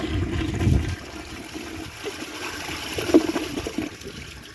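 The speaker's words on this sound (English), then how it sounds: "I'll just give it another flush real quick and I'll let you guys see what this does" A Mansfield Pro-Fit toilet flushes with a short rushing surge of water, then quieter trickling and refilling, fairly faint and close.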